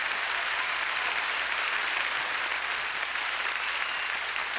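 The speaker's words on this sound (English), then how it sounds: "let's give Jesus a big hand clap of praise" An audience at a gospel concert claps steadily, a dense, even wash of applause that holds at a constant loud level from start to finish, with no voices standing out.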